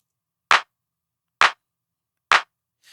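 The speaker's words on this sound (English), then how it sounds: "Now adding an 808 clap." An 808 clap sample in a beat: three sharp, identical electronic claps spaced evenly about a second apart over silence, with a fourth softer one starting at the end.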